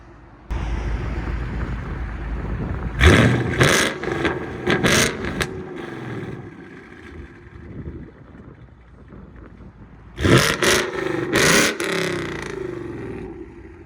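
A 2015 Ford Mustang GT 5.0L V8 with Valvetronic Designs exhaust, valves open, rumbles past outdoors in two loud surging bursts separated by quieter idling, with wind buffeting the microphone.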